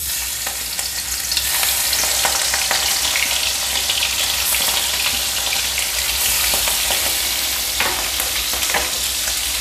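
A close, continuous hiss of tiger prawns frying in hot oil, broken now and then by the scrape and clatter of stirring, holds fairly loud and even throughout without any speech.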